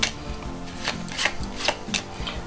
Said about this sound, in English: first I'm going to give this packet a bit of a shuffle